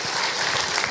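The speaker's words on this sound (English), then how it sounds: "Let's give Pauline a round of applause." Brief burst of audience applause at a leadership symposium, dense steady clapping from a crowd heard on its own.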